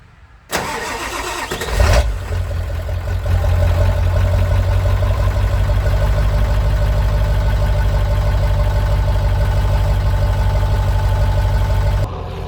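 A 1996 Ford F250 with a 7.3 Powerstroke diesel cranks and fires after sitting for a couple of days, then settles into a loud, close, steady rumbling idle with a clattering low throb, no talking.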